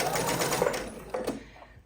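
A sewing machine stitches a dog bandana at a regular 2.5 stitch length, giving a brief burst of fast rhythmic clatter that pauses and then resumes for a short run, close and fairly quiet.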